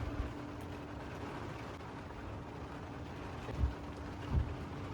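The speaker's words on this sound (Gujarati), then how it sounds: "મિત્રો વરસાદ ફૂલ ચાલુ થઈ ગયો" Monsoon rain falls steadily over a farm field in Gujarat, a soft, even hiss at moderate distance, broken by two brief low thumps near the end.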